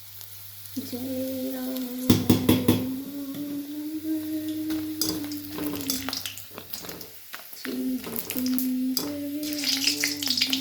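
Potato chips sizzle and crackle steadily as they fry in hot oil in a home kitchen, close and fairly loud. A voice chants or sings over the frying, with occasional clinks and stirring.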